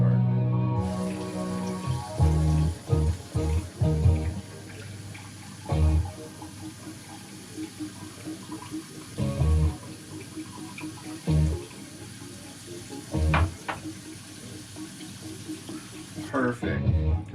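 A tap runs water into a container in a steady wash near the mic, broken by repeated low thumps and knocks, with a person talking over parts of it.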